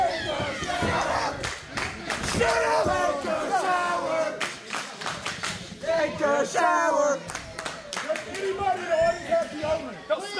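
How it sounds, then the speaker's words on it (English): A crowd at an independent wrestling tag-team championship match in Sylva shouts, jeers and claps in waves, loud and close, with a commentator talking over the noise. "And it sounds like the crowd here in Sylva are making some derogatory remarks in regards to Luca Daniels' hygiene."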